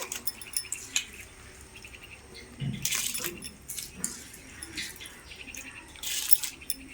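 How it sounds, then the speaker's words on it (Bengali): Uncooked rice tipped into a pot of hot water with a little white oil for chicken biryani gives a couple of rattling, splashy bursts, separated by lighter clinks and taps at moderate volume. "জল গরম হয়ে গেছে জলের মধ্যে চালগুলো দিয়ে দেবো"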